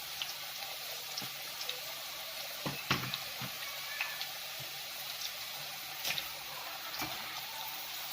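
A homemade sweet snack for kids deep-frying in hot oil until golden brown, a steady dense sizzle with small crackles and pops scattered throughout, no voices.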